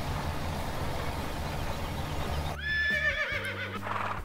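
A horse in Farming Simulator 2017 lets out a loud, close whinny that rises and falls over about a second, with game ambience and faint hoof clatter around it.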